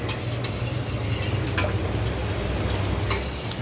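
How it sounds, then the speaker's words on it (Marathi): A spoon stirring custard powder into milk in a pot, continuous scraping and swirling with a faint sizzle beneath and a few sharp clinks of metal against the vessel, close and steady. "ते ताई काहीतरी मिक्स करते ते कस्टर्ड पावडर आणि दूध"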